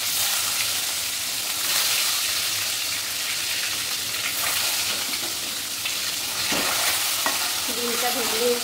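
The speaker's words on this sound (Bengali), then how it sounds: "ডিমটা ভেজে নিচ্ছি, ডিমটা ভেজে তুলে নিয়ে তারপর আলুটা ছেড়ে দেবো" An egg fries in hot oil in a pan, giving a loud, continuous close-up sizzle with faint crackles and a few brief scraping touches toward the end, with no talking.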